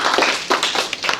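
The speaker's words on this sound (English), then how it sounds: "let's go ahead and clap for Ivan" A small group claps briefly for a guitar player about to demonstrate, a short close burst of scattered hand claps.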